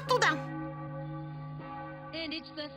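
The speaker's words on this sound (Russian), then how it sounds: "Как вообще можно что-либо читать под этот раздражающий колокольный звон?" A church bell struck once, its loud clang decaying into a long, sustained ringing tone in a cartoon setting, with a second fainter strike near the end as a voice talks over it.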